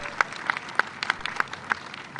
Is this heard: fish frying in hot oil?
no